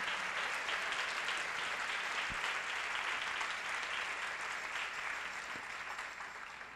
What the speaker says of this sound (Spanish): Un aplauso a nuestra Madre.